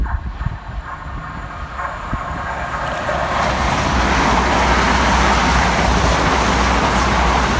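Two coupled Southern Class 377 electric multiple units pass through on the fast line at Purley in South London, their roar rising from a distant rumble into a loud, sustained rush of wheels and rail noise.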